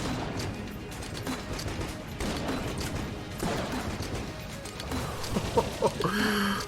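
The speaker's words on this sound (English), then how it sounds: "Oh, the explosions." Rapid game explosions and gunfire from Enter the Gungeon, with a grenade launcher in play, pop and crackle in a dense busy barrage throughout, with sharper bursts near the end.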